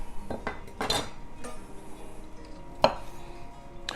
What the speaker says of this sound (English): we're going to add some tomatoes. I'm going to cut these guys in half.